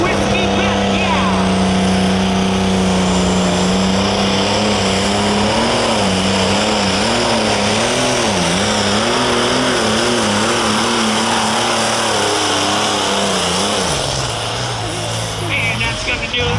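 A light limited super stock pulling tractor makes its run at an OSTPA pull, engine roaring loud and sustained with wavering pitch as it strains down the track, over a crowd and an announcer talking.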